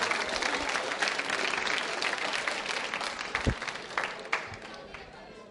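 A school quiz show audience applauds loudly and continuously, with scattered sharper claps and some crowd noise mixed in.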